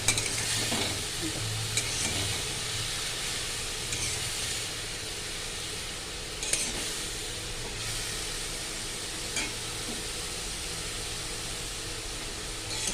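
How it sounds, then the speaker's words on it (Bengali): Chopped banana stem (thor) is stirred in a hot cooking pan, a continuous soft sizzle and hiss with a few light scrapes and knocks of the spoon, close and steady throughout. "এই যে থোড়টাকে দেওয়া হয়ে গেছে, এটাকে নেড়ে দিচ্ছি।"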